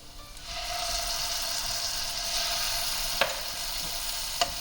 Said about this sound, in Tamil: நல்லா கம்பைன் பண்ணிட்டு வதக்கிக்கலாம்.